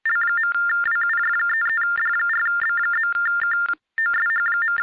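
Phone ringtone playing a loud, repeating electronic melody in steady bursts, with a brief gap near the end before it resumes, close and clear with no talk.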